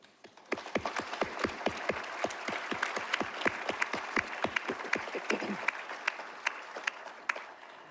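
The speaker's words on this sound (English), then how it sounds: "Please join me in giving them a big round of applause" A graduation ceremony audience applauds support staff at a college commencement, steady sustained clapping from a large crowd, moderately distant, with a few sharper individual claps standing out.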